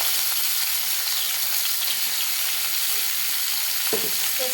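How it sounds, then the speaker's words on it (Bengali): Onions and whole spices such as cinnamon and cardamom fry in hot oil in a frying pan for a duck and mung dal dish, giving a steady, close sizzle with a brief clink of a utensil near the end. "আমি ফ্রাই প্যানে তেলটা দিয়ে দেবো, দিয়ে পেঁয়াজ কুচিগুলো ব্রাউন কালার করে ভেজে নেব"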